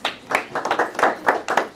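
Brief scattered applause from a small audience at a Pleasant Grove city council meeting, with a handful of sharp, uneven claps over under two seconds, nearby and moderately loud.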